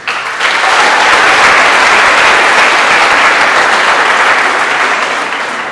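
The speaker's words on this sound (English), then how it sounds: "I'd like to give them both a round of applause now" A crowd at a 2014 City Poly high school graduation ceremony applauds the school's two founders, loud, sustained clapping from many hands that starts abruptly and holds steady, fading slightly at the close.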